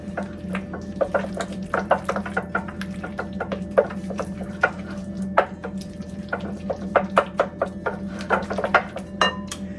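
A spoon stirs mayonnaise into cream cheese for a shrimp dip, scraping and clinking against the bowl in quick, uneven bursts. It sounds close and fairly loud over a low steady hum, with no talking.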